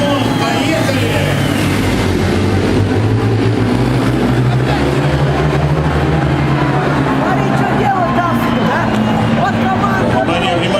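Ice speedway motorcycles racing as a tight pack around a frozen track, a loud continuous engine roar with rising and falling tones, under an arena announcer's commentary.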